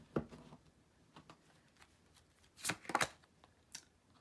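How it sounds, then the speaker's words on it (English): A deck of tarot cards being cut and handled: scattered soft flicks and slaps of cards, with a brisker cluster of sharp riffling snaps near the end, close and quiet. "Cut the deck."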